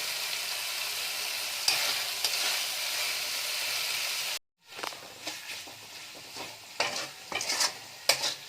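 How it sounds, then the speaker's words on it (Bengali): Water lily curry is stirred in a pan, first as a steady sizzling hiss, then after a brief silent break as scraping spoon strokes over softer frying, close and loud with no voices. "কিছুক্ষণ এবার নেড়ে নিচ্ছি।"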